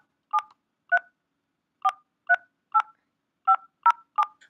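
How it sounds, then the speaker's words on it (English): Telephone dial pad DTMF tones as a number is entered: nine short, clean two-tone beeps at an uneven tapping pace, isolated against silence and fairly quiet. "You simply click on the dial pad to enter in the number you wish to dial."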